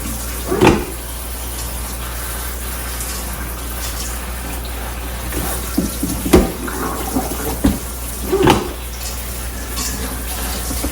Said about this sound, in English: And I'm going to immediately run cold water over it.